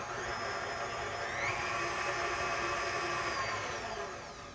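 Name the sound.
stand mixer blending butter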